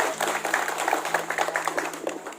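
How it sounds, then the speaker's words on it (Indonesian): A crowd at a Save Makam Mede gathering breaks into applause, a dense patter of many hands clapping at once, fairly close and sustained over a faint steady hum. "Tepuk tangan buat kalian semua."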